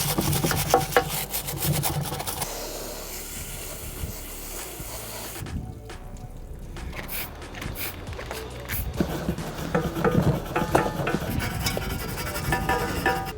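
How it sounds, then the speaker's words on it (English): Steady hand scrubbing of an aluminum dirt bike frame with a Scotch-Brite pad and aluminum wheel cleaner, working a pitted head tube and frame rails; continuous close rasping rubs with no talk. "I'm just gonna keep scrubbing with the aluminum wheel cleaner, see if I can get that off"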